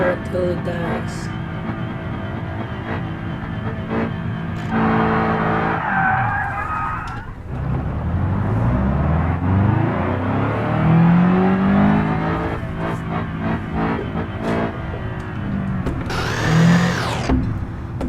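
A car called Miss Madeline screams under hard revving as the pedal is pumped, the engine pitch repeatedly rising and dropping in loud, strained waves, with a sharp whining burst near the end.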